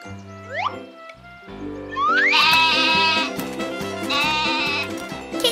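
A cartoon goat bleats, in short rising calls near the start. Then a longer, loud, wavering bleat carries over a light musical backing.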